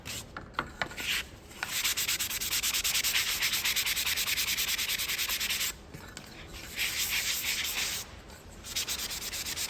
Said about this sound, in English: So to make that chalk space, I'm gonna sand up the sign real good